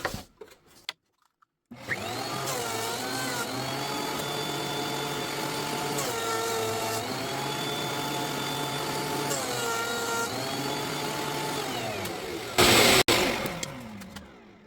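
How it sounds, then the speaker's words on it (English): A power planer skims a wood surface for kitchen cabinets, starting up after a short quiet gap and running as a steady loud whine with slight pitch shifts, then a sharp burst and clatter near the end. "I'm just gonna keep skimming it from both sides till every piece of the surface has been planed"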